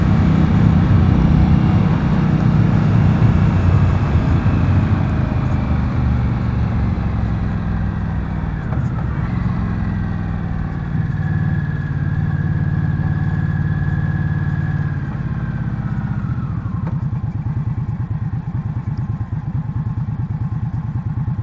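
A 2015 Indian Scout motorcycle rolls through a parking lot, its engine running loud and close with a steady rumble that dips and swells slightly as the ride goes on.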